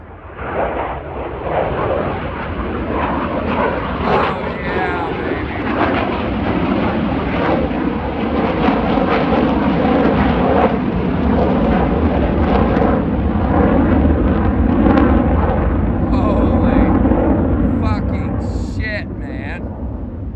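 A B-2 Spirit bomber passes over Whiteman Air Force Base with a loud, sustained low roar that swells and holds across the whole stretch, while excited voices talk over it.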